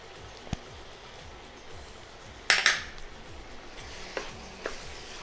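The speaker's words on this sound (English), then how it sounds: "So now I'm going to give this a stir" Kadai mushroom dish stirred in a pan, a few scraping and clinking strokes of a utensil against the metal, one louder clatter midway, over a quiet background.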